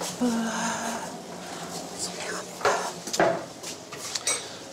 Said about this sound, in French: Je vais prendre une râpe